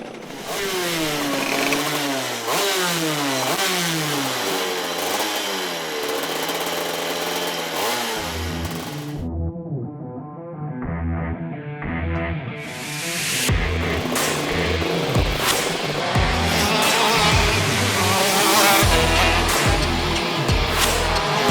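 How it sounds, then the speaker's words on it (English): A racing kart engine on a rock shifter kart chassis warms up, revving repeatedly in sweeping rises and falls, dropping briefly to a quieter idle before loud, raspy revs return close by. "Do we need to run in the engine? We need to warm it up."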